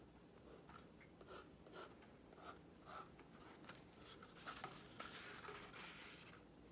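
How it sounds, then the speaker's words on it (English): Brown markers drawing bark texture onto cardboard toilet paper rolls, a faint, steady scratchy squeaking of quick marker strokes under a noisy background, growing slightly busier toward the end. "So let's decorate our toilet paper rolls here."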